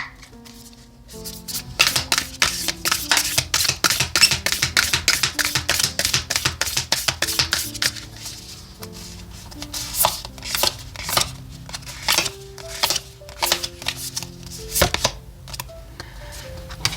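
Tarot cards being handled and shuffled on a table, a long run of rapid, crisp snapping and riffling taps that comes in dense bursts with brief pauses in between.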